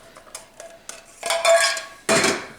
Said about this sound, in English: as you mix in the coconut cream